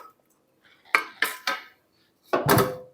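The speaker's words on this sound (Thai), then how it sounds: "ตำพริกให้ละเอียดให้เนียนก่อนค่ะพี่น้องนะคะ" Roasted chilies pounded in a mortar for a Thai tomato jaew dip: a handful of close, hard pestle strikes with clattering edges, three quick blows and then a heavier pair after a pause, with no talking.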